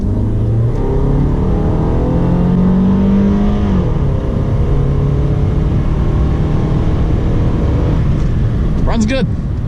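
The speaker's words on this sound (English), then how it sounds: "All right, here's an acceleration run." A $250 Pontiac Grand Am accelerates uphill from inside the cabin, its engine droning loudly and rising in pitch before an upshift, with a steady road roar throughout.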